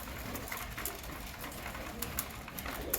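Pigeons in a loft with a newly hatched baby pigeon feeding, giving soft cooing amid a faint rustling, hissy background; quiet and steady with no voices.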